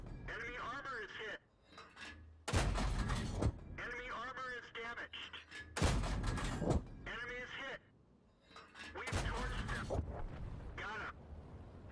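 Tank cannon shots in World of Tanks: three heavy, booming blasts spaced a few seconds apart, loud and close, with a voice talking steadily between and around them.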